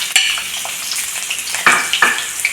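Sliced onions hit hot oil in a pan, setting off a steady bright sizzle with occasional louder spits and stirring scrapes, close and fairly loud, with no talk.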